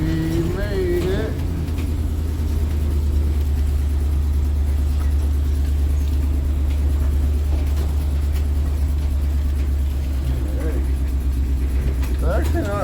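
An International Travelall's engine runs steadily at close range, a constant low drone with a faint rattle, holding the same note for the whole stretch.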